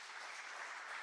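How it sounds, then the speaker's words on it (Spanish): A congregation at a church service clapping together in a steady, dense wash of applause, moderately distant and filling the whole moment, with no distinct voices. "Le damos un fuerte aplauso también a eso"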